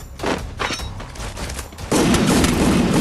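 Gunfire crackles in an online shooter video game, a burst of rapid shots followed by a denser, louder stretch of fire near the end.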